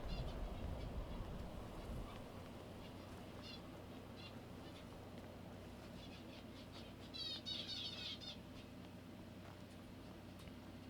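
Birds in the Skyrim video game chirp in faint, scattered bursts on a lower mountain slope, with a livelier cluster of calls partway through, all over a steady low ambient rumble.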